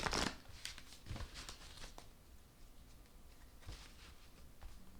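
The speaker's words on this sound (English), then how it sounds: "2 more shuffles and then I'll cut the deck." A deck of tarot cards is shuffled by hand at close range: soft papery riffling bursts, a louder flurry at the start, then quieter shuffles, with no talk.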